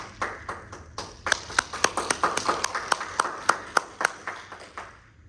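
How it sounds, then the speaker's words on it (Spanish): Scattered applause from a small audience for a doctor after his talk, with distinct individual claps rather than a dense roar, building briefly and fading out over a few seconds. "démosle un fuerte aplauso por favor al doctor Jovan"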